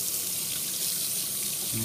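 Tap water pours steadily into a sink under strong pressure, a continuous broadband rush with no break, close and fairly loud.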